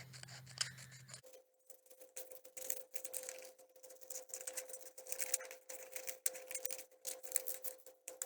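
A printed paper egg pattern for an Easter egg ornament being cut out with scissors: rapid, close crisp snips in a steady run, fairly quiet, with no voices.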